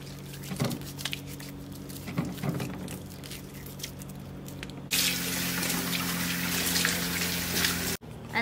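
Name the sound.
washing hands under running water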